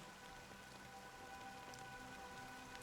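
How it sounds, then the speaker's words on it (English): Steady rain falls in the video game Honkai: Star Rail, a dense, even patter close around the listener that continues without pause and with no voices. "The rain sound is so nice."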